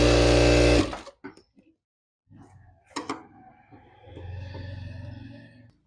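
A sewing machine stitches darts into a blouse, one loud, steady burst of running at the start, then stops. Scattered clicks and handling noises follow, then a lower, softer hum.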